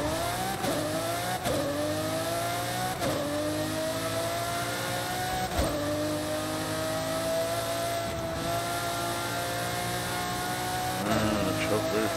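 1997 Lamborghini Diablo SV in Forza Horizon 5 running flat out at a speed trap, engine screaming close and loud with repeated upshifts, pitch climbing then dropping at each gear change, voice talking over it.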